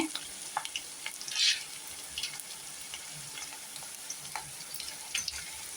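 Potatoes sizzle and fry in hot oil for a kaju potato masala, a steady close crackling hiss with light stirring clinks and small spatters throughout.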